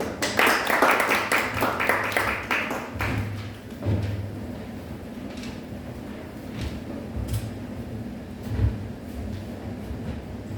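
A church congregation claps at a Sunday praise and worship service, dense applause at first that thins into scattered claps and thumps, close and fairly loud.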